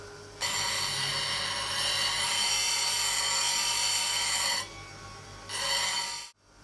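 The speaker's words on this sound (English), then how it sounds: "let's sharpen this new 13mm spindle gouge" A grinder with a coarse CBN wheel sharpening a new 13mm spindle gouge: a loud, steady rasping grind for about four seconds, a brief pause, then a second shorter pass before it stops abruptly.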